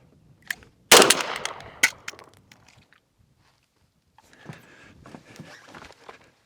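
A VMAC9 PDW fires a loud sharp burst near 1 second followed by a couple of fainter shots, then quiet, then scattered handling and rustling noises.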